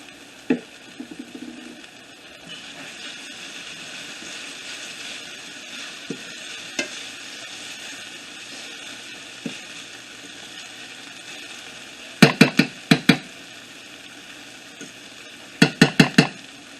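A steady low sizzle of onions caramelizing in oil in a pan runs throughout, broken by a few sharp clusters of scraping and stirring clicks near the end, with no voices.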